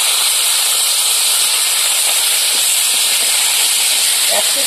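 Pond snakehead fish frying in hot oil, a loud continuous sizzling hiss close up with a steady bright crackle and no break.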